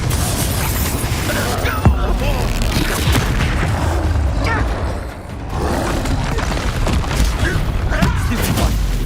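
Spell explosions boom again and again in a frantic Hogwarts Legacy wizard duel, dense and loud with crashing impacts, spell effects and shouted incantations layered throughout.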